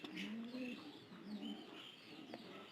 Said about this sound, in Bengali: কবুতর এই যে কবুতরদের ডাকতাছে